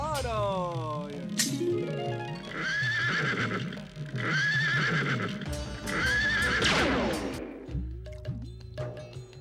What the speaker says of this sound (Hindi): इस विचित्र अश्वमुखी दैत्य की हिनहिनाहट से सारा ब्रह्मांड कांप रहा है